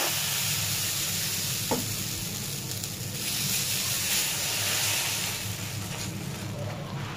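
A breakfast snack frying in a pan after being cooked through inside, giving a loud, dense, continuous sizzle and hiss up close with a brief utensil tap.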